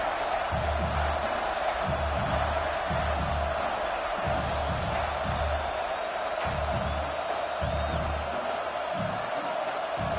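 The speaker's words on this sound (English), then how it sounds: "with this place rocking, the crowd forces a false start" A stadium crowd roars at a football game with a loud, constant wall of noise, while rhythmic low thumps pulse through it.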